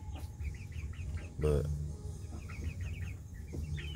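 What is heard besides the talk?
chickens clucking in coop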